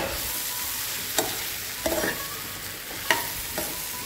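Raw mango curry being mixed in a hot pan, a steady low sizzle broken by several scraping clicks of a spoon against the metal at irregular intervals.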